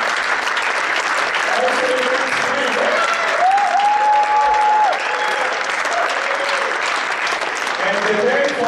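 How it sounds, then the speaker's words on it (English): An audience applauds at a group ceremony tied to the NASDAQ closing bell, steady dense clapping lasting throughout, with faint voices and a brief whistle-like tone mixed in. "So round of applause for Zeke."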